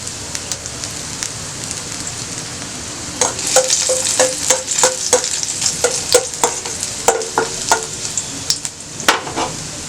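Garlic frying in hot oil in a kadai, a loud continuous crackling sizzle with a rapid series of sharp spatter pops and stirring clicks through the middle, close up and without speech.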